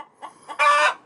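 A chicken clucks close by in a backyard flock, with a couple of soft short clucks followed by a louder, drawn-out squawking cluck.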